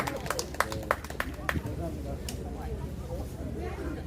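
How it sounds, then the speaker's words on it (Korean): A small audience at an outdoor artist festival gives a short burst of scattered clapping that fades quickly, with a voice talking over the room noise afterward. "박수 한번 쳐주세요. 네, 박수 부탁드립니다."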